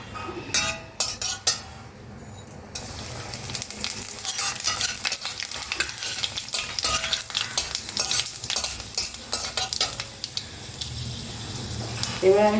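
Dry chili, cumin, fenugreek and nigella seeds sizzle in hot oil in a home kitchen, a steady close crackle with scattered clinks of a stirring utensil, while a person talks now and then.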